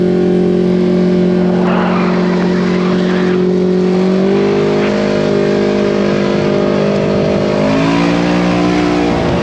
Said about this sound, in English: the Kawasaki KRX out for a rip